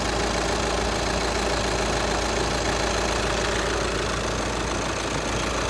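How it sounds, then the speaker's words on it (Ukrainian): The 2.0 TDI diesel engine of a Volkswagen Passat B7 idles steadily with a low, even chugging rumble and faint knocking, close and continuous, no voices. "Моторчик працює як часи"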